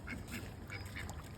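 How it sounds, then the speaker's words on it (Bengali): Ducks quack in a short run of nasal calls outdoors in Bashundhara during a morning walk, moderately close over a steady background hum. "সুন্দর হাঁসগুলো।"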